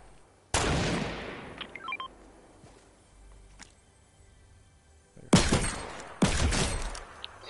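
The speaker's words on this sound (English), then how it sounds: "Minigun." Video game minigun fire comes in three loud, dense, sustained bursts, one early and two near the end, separated by quieter stretches with faint beeps.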